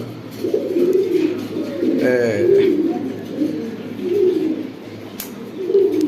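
Pigeons coo repeatedly at a wholesale pigeon farm in Bangladesh, their low rolling calls steady and close under a voice.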